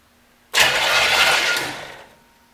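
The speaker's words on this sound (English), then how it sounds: "Remember, there's no plugs in it, so it's going to sound like it has no compression." A 1975 Corvette C3 engine, neglected for 34 years, turns over with its spark plugs removed and lifters not pumped up, a steady, even whirring drone lasting about a second and a half, then winds down; no firing or catching.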